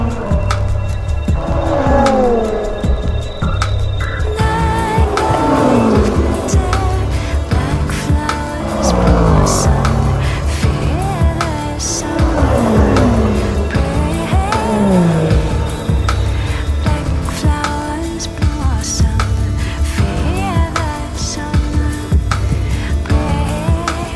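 Race cars at Le Mans 24 Hours during the Hyperpole qualifying session, engines roaring past one after another with rising and falling pitch sweeps, loud and continuous trackside.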